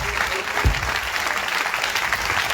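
A church congregation at a testimony revival gathering applauds steadily, a dense wash of clapping from many hands that stays even throughout.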